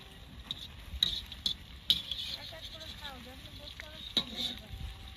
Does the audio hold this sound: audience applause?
no